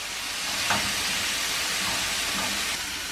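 Chicken frying in a pan for hunter's chicken, a steady hissing sizzle throughout with a couple of faint clinks, no voices.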